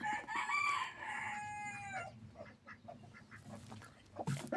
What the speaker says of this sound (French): Ici, vous voyez, il y a une poule qui couve.